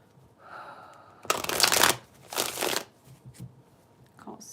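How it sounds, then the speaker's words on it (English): Cards are shuffled in two quick riffling bursts close by, followed by a few light taps in a quiet room. "Just shuffle up the cards."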